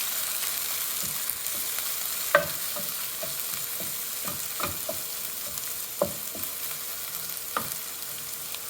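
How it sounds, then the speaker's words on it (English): Onions and peppers sauteing in a pan for backpacking chili, a steady sizzle broken by irregular spatula scrapes and stirring knocks, fairly close. "We're going to let that saute for a little bit."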